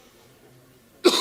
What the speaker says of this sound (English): I don't want to cough on you.